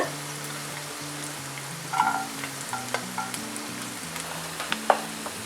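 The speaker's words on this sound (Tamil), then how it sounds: "கடுகு பொரிய ஆரம்பிச்சிருச்சு." Mustard seeds, urad dal and garlic frying in ghee and oil, a steady crackling sizzle with scattered pops and light clinks over a faint background tune.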